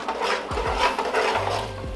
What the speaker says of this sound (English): I'm just going to give this a stir